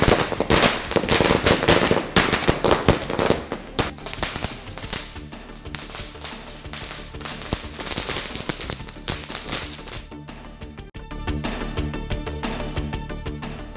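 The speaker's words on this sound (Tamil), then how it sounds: "பட்டாசு வெடித்தும் மத்தப்பு கொளுத்தியும் உற்சாகம்." Diwali firecrackers burst in dense, rapid strings of sharp cracks and pops, loud and close, with a brief pause before another volley of quicker crackling. No talk.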